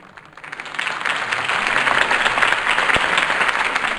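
Large crowd applauding after Harvey Dent's campaign speech in the Batman Telltale video game, swelling from a soft start into sustained, even clapping throughout.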